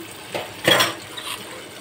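Rinse water from a bowl poured into a hilsa curry with taro and potatoes as it simmers, giving a short splashy pour with a light clink of the bowl, close and alone.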